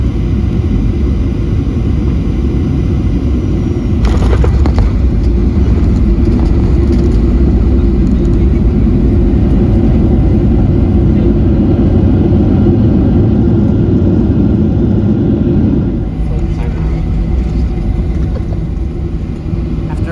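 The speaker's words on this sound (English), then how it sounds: "let's go ahead and firmly set it down on Denver runway 36 right" Loud, steady roar of a Southwest Airlines jet touching down and rolling out on Denver runway 36 right, heard from inside the cabin, with a brief rumble burst around touchdown and the noise easing near the end.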